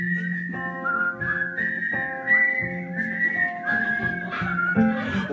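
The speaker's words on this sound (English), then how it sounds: "Whistling tunes" Someone whistles a bright, melodic tune, with clear sustained notes moving up and down in a steady phrase, close and solo.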